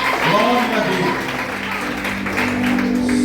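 A church congregation applauds in a continuous wash of clapping, while a voice speaks over it throughout.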